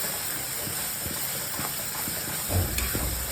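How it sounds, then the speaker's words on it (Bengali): Spice paste fries in a pan after a splash of water for veg biryani, producing a steady, close hissing steam with a few faint clinks and taps over it. "এবার এখানে মশলাটা ভালো মতো ভাজা হবে।"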